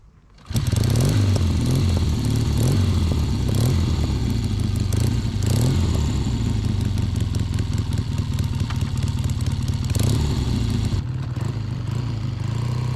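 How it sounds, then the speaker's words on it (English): A Triumph Bonneville T140 motorcycle starts off and rides steadily, its engine note loud and close with a clattering mechanical rumble that holds throughout and eases slightly near the end. "Let's jump on the bike and go for a bit more of a ride."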